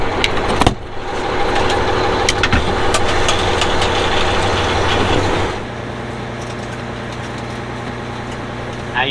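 An electric cable reel on an RV retracts a heavy 50 amp power cable with a loud steady motorized whir and rumble that drops to a lower hum partway through.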